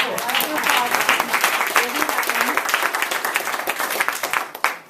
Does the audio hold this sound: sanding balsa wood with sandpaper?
no